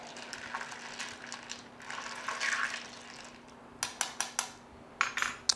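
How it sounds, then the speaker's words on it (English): A spoon stirs a Kentucky Mule topped with ginger beer, clinking against the glass in a run of sharp, bright taps that quicken toward the end, over soft fizzing and liquid sounds. "Let's get this bad boy a nice little stir."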